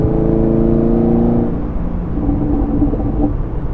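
A 2021 Chevrolet Camaro's loud engine rumbles with a steady tone, then breaks into irregular crackling and popping bursts from the exhaust, close and continuous.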